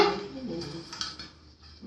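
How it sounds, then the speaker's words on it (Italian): A metal lid set onto a frying pan, a brief clatter of cookware with light metallic rattles close by, while a voice speaks around it. "Mettiamo il coperchio."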